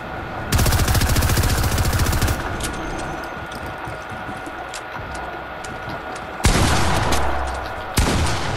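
Shotgun blasts in the Fortnite video game, Season 8: loud, dense bursts of gunfire that fill the whole stretch, with a sustained volley, a steady rattling middle, then two more sharp blasts near the end.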